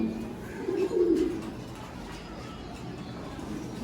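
Pigeons coo once in a loose burst in a loft where a breeder keeps paired birds, the soft throaty call close and moderately loud before settling into quiet room noise.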